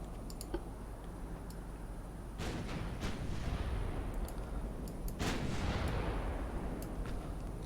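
Naval guns fire in Ultimate Admiral Dreadnoughts, a British fleet in a 1900 campaign, with two heavy booming salvos whose rumbling tails linger and overlap, and scattered faint clicks in between.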